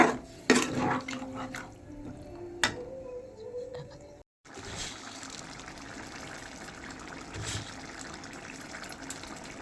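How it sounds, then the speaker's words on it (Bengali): Water poured into a pan of potato and pumpkin curry gives a close splashing trickle early on, then a brief silent gap, followed by a steady, softer watery hiss through the rest. "এবার আমি জল দিয়ে দিচ্ছি পরিমাণ মতন"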